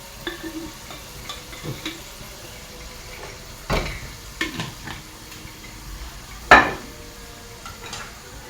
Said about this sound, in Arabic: يلزمني الفلفل الاحمر نقليه باش يحمر شويه.